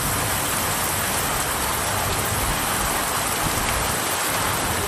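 Heavy rain with thunder and lightning pours steadily in Aruppukottai, a dense, loud, continuous hiss of downpour on surfaces with no pauses or voices.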